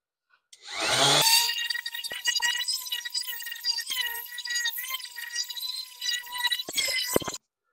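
A power carving tool grinds into a small piece of driftwood, a continuous whining drone with a steady pitch that runs for several seconds before cutting off abruptly.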